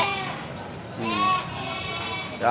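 Goats bleat at the Batangas livestock auction market, a few wavering, nasal bleats rising from the pen amid a busy background, with someone speaking over them.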